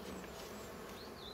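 Honeybees at a hive, a soft steady buzzing drone with faint passing whines, heard alone and fairly quiet.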